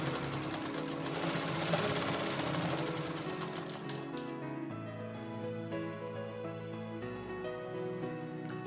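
Sewing machine stitching a bra strap onto a lined blouse, a close, steady rapid whirring chatter that runs continuously, then slows into a lower hum before pausing briefly near the end, with no speech.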